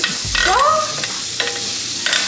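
A steak laid into melted butter in a hot pan gives a close, steady sizzle and crackle, with a few brief squeaky scraping sounds from a utensil against the pan.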